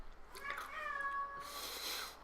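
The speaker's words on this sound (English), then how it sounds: "I don't know if you heard that, but my cat's meowing" A cat gives a drawn-out, wavering meow close by, followed by a second shorter cry, fairly quiet against a hushed room.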